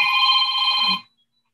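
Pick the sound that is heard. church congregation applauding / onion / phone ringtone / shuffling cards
phone ringtone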